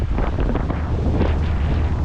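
Strong wind buffets the microphone on a small boat running the Intracoastal Waterway, with choppy water slapping below in a steady, loud, unbroken roar.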